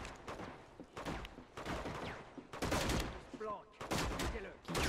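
Gunfire in the video game Uncharted: Among Thieves, heard as repeated loud bursts spread across the clip, mixed with game sound and overlapping voices.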